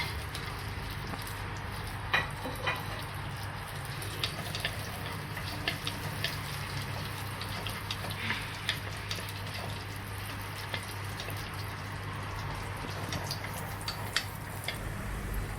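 Ghee sizzles in a pan during prawn biryani preparation, a steady close-up frying hiss dotted with small crackles and pops all the way through.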